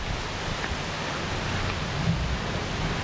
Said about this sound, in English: it's pouring rain with the sun shining.